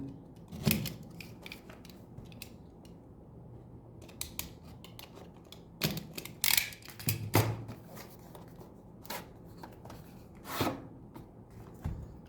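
Scissors snipping the seals on a Samsung Galaxy A32 box, several sharp close cuts and rustles of cardboard and plastic scattered between quiet pauses.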